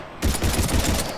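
Heavy gunfire erupts in the video game Mass Effect 3 during a combat firefight, a loud, dense burst of rapid shots that starts abruptly and keeps hammering without pause.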